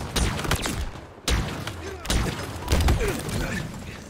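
Gunfire in the video game Halo Infinite: repeated sharp shots and bursts with impact thuds, loud and close, under some voices.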